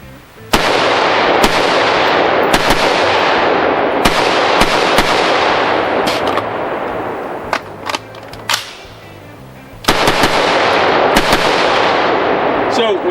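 Rifle shots fired at an outdoor range during SHOT Show 2017, through a Primary Arms 2.5x prism scope: about a dozen loud, sharp cracks at irregular intervals, each with a ringing decay, alone without talk.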